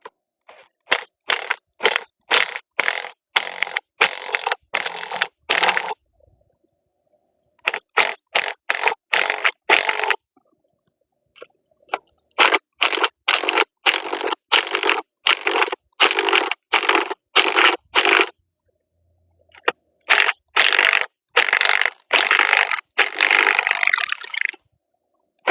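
Strut spring compressor clamps are tightened on a car strut with rapid, loud ratcheting bursts in several long runs, separated by short pauses.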